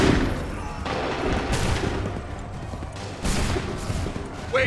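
A musket volley is fired on command in Assassin's Creed III, a dense crackling burst of many shots over rumbling battle noise, with further scattered firing and a sharp crack at the end.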